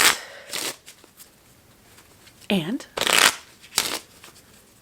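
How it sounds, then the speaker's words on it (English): A deck of playing cards is shuffled in quick riffling bursts, several sharp flurries separated by short pauses, close to the listener, with a brief spoken word in between. "I'll shuffle my cards"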